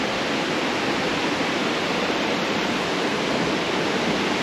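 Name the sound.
waterfall after rain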